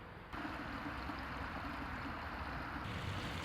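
Thawed stream flowing through a park in Germany in winter, a steady soft rushing and trickling that fades in after a brief quiet start and carries on evenly at moderate distance.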